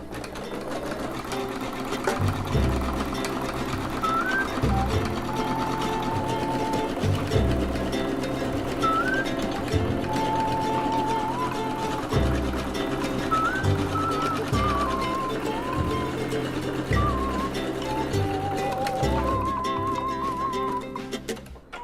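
A Husqvarna embroidery sewing machine stitches a design, a loud, close, rhythmic mechanical whirring that runs in repeating bursts with brief changes in pace and occasional high whining tones from the motor.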